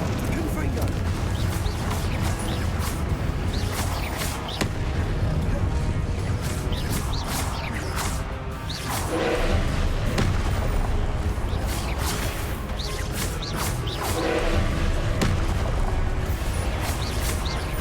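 Repeated Confringo blast spells explode in the wizarding game Hogwarts Legacy, a dense run of booms and crashing impacts across the whole stretch, loud and close, mixed with other spell effects and a voice talking over them.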